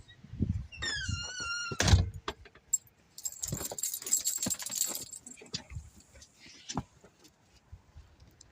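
Front door opening onto a snowy day as two dogs head outside, with a jangle of keys and a thunk at the door, followed by scattered rustling and footsteps as they step out.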